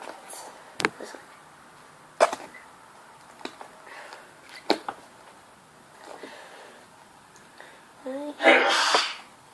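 A person sneezes once, sharply and close, near the end, after a stretch of quiet handling noises and soft breaths while playing with slime.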